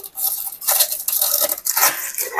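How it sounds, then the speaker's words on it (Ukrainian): Cabbage pieces drop into a Lidl kitchen robot bowl, giving a quick series of close, bright rattling and clattering hits, uneven in rhythm, with no talking. "Я вже закидаю капусту."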